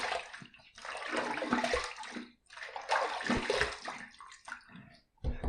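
Water runs and splashes from a tap while a razor and face are rinsed after shaving, close gushing bursts broken by brief pauses and gurgles.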